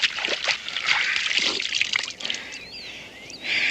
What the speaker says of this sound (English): Splash some of this water in your face.